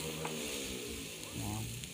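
Igado with pineapple sizzles and fries in a very large pan, a steady close crackle running throughout with faint low voices in the background.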